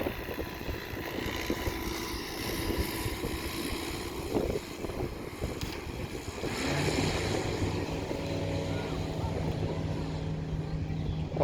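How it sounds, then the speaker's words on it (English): A light aircraft takes off from Thruxton Airfield on a windy day, its engine drone swelling and holding steady in the distance beneath heavy wind buffeting on the microphone. "What a nice takeoff."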